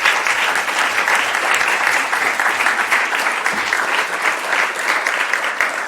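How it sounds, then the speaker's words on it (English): Steady, dense applause from a conference audience after a panel on social enterprise funding, sustained and even at close range for several seconds with no speech over it. "I think we can give a round of applause once again."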